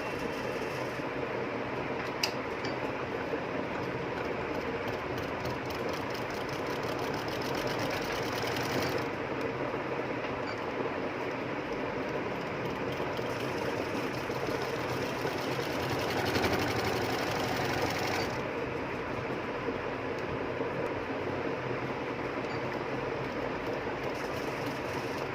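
A sewing machine stitches a baby skirt in one long continuous run, a steady close whirring rattle with slight changes in pace and no voices.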